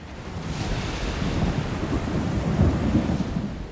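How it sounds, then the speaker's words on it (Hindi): Heavy rain falls steadily during a thunderstorm at an excavation site in Dharmasthala, with deep rolling thunder rumbling underneath and swelling slightly toward the end. "रुक रुक कर बारिश भी हो रही थी।"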